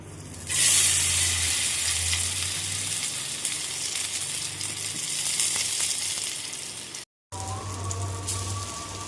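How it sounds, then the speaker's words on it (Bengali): Gram-flour-battered pointed gourd chops fry in hot oil in a wok, giving a loud, steady crackling sizzle throughout with a brief break near the end and no talk. "এবার আমরা এগুলোকে ভেজে নেব।"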